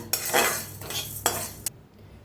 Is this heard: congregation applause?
no